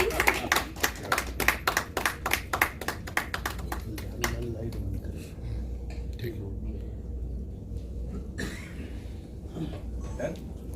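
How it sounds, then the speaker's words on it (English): A small group claps in quick, distinct hand strikes at a fashion film premiere, the clapping thinning out after a few seconds while people keep talking over the background. "Can we have a big round of applause, please?"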